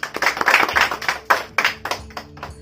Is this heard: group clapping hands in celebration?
yes